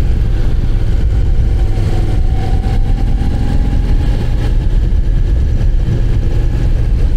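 A Moto Guzzi V9 Roamer motorcycle engine drones steadily while riding during break-in, a loud, continuous low rumble mixed with wind noise, with no talking.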